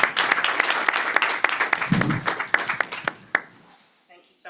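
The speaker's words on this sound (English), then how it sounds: "I think that warrants another round of applause" Applause from an audience at a school board meeting, a dense burst of clapping that thins out toward the end and dies away, with a few scattered claps lingering as a short voice starts up.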